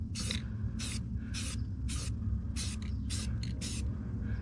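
Short bursts of spray paint hiss, about eight in a back-and-forth rhythm, laying satin black on Tesla Model Y wheels, close and moderately loud over a low background hum, no talk.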